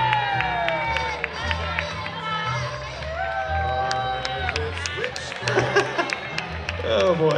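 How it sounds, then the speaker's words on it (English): Crowd at a Temecula Halloween costume contest, group category, cheers and applauds a costumed family group, with whoops and shouting voices mixed into a steady, dense wash of noise throughout. "Please give a big round of applause to the Pterodactyl family."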